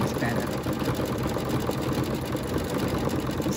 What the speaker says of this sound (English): So we're going to stitch right over the top of this.